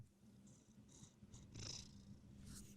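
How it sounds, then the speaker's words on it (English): A cat purrs softly and steadily, close by in a quiet room, a low continuous rumble with a few faint higher sounds above it. "you guys should have been able to hear him purr there"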